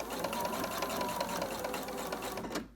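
A sewing machine stitches in the ditch along a quilt's seams, running at a fast, steady, continuous whir close by before stopping abruptly at the end.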